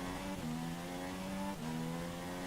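A Formula 1 car engine in the racing game F1 2016 drones at high revs, with two quick upshifts audible as brief dips in pitch, steady and close with no voices.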